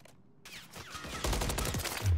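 Gunfire in Call of Duty: Modern Warfare III ranked play, a rapid burst of shots starting after a short quiet and continuing as a dense rattling volley with a heavy low thump at the end.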